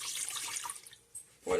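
Warm milk poured into a mixing bowl while making a vanilla cream filling for Brazilian doughnuts, a soft close liquid pour and splash lasting about a second and a half.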